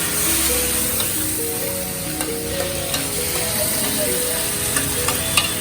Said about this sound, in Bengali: সেই ভাজা হইতেছে